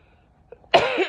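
A single harsh cough bursts out after a brief near-silence, close and loud, with a rough, throaty tail.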